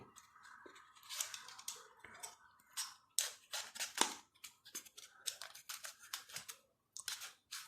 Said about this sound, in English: please be cautious while cutting the extra parts